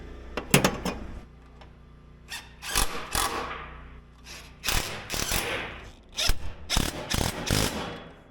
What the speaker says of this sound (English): You're gonna thank me for telling you should probably have a ratcheting wrench to get to these ones